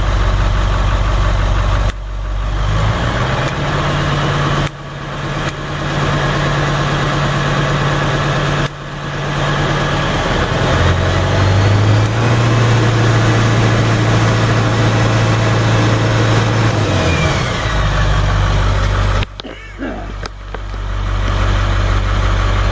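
A 7.3 diesel swapped in for a 6.9 IDI in a 1989 International S1600 idles steadily after a cold start, a loud, close, continuous low rumble whose pitch shifts slightly as the idle settles, with brief dips partway through.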